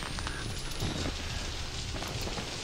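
Sprinkler system spraying water in the horror game Outlast, a steady hissing wash of droplets with a faint crackle underneath, continuous and fairly close, with no voices.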